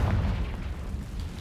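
A Confringo fire spell detonating in a Harry Potter video game: a deep, muffled booming rumble that rolls on for over a second, loud and close.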